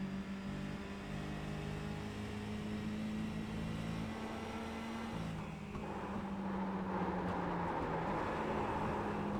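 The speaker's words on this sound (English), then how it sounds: "You hear him right there, grabbing 3rd gear." Onboard a Thomas Monster Mini race car at Milwaukee Mile, a steady buzzing engine drone climbs in pitch, breaks briefly at an upshift into third gear, then picks up and revs on, loud and continuous.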